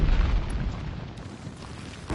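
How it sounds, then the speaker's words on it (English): Rumbling explosions from the Horizon Zero Dawn video game keep booming one after another, a dense, continuous roar of blasts with a fresh burst near the end and no talking. "Lots of explosions already."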